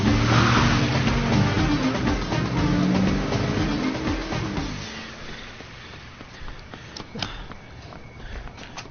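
A car is driven off by a thief, its engine rumbling loud and close for several seconds before fading away, leaving quieter scattered clicks and knocks behind.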